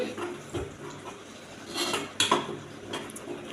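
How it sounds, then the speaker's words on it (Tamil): Kurma boiling in a pot is stirred with a utensil, producing a few quiet scrapes and metallic clinks against the pot over a soft background, close by. "அது நல்லா கிளறி விடுவோம்."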